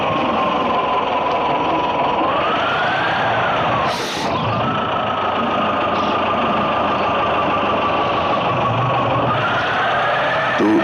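A tractor engine in a 3D Indian tractor-driving farming game runs steadily and loudly throughout, its pitch rising and falling slightly with throttle, with a brief dip and a sharp burst partway through, and no talking.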